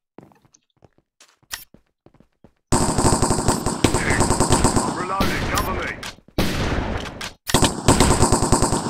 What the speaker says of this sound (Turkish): Abi sıkıyorum sıkıyorum ölmüyor.